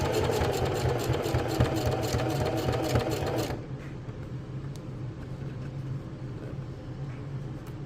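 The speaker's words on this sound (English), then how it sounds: "Your sewing machine should not have any trouble going over this" A sewing machine stitches over fabric on a simple first project, a rapid loud mechanical chatter that abruptly drops to a quieter steady hum partway through.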